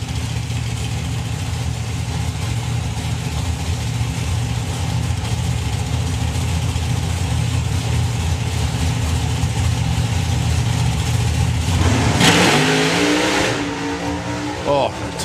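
A drag racing car sits on the line at the STP National Finals with a loud engine rumble, then launches with a sharp rising roar and shuddering tyre shake near the end, with a commentator talking over it.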